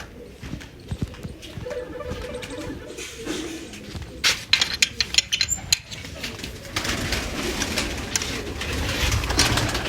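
Pigeons in a rooftop loft coo and shuffle up close, with a flurry of sharp wing flaps and clatter in the middle, and someone speaking now and then.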